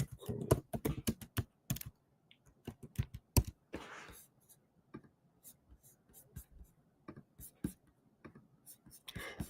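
Rapid, uneven clicking of keys on a computer keyboard as a discount code is typed in, close and fairly quiet, in bursts with short pauses and a faint whisper-like breath now and then.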